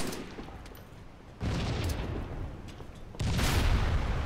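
Bursts of video game gunfire in a shooter, a quieter stretch followed by two louder sustained volleys of rapid shots, close and dense, with no talk over them.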